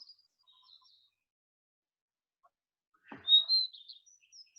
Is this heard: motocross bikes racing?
no